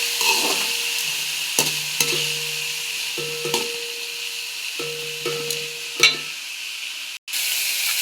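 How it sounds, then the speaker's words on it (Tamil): Vegetables sauté in oil in a pan: a continuous soft sizzle broken by repeated spatula scrapes and knocks against the pan at irregular intervals, with no talking. "நல்லா எண்ணெயிலே வதங்கணும் காய்."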